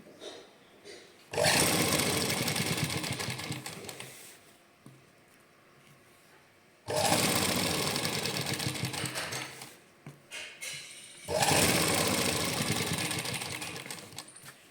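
A sewing machine stitches a seam on a suit sleeve in three loud sustained runs, each lasting several seconds, separated by quieter pauses with light handling sounds.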